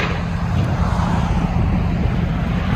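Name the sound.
2009 Chevy Avalanche 5.3L V8 idling, Flowmaster Super 10 dual exhaust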